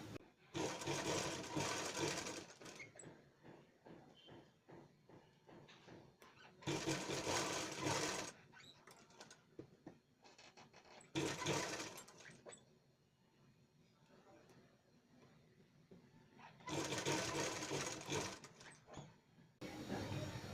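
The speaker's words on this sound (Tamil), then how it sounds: "இப்போ தையல் போட்டு காட்டுறேன்" Sewing machine stitching gold lace onto fabric, running in several loud bursts of rapid stitching separated by pauses, with soft handling noises between runs.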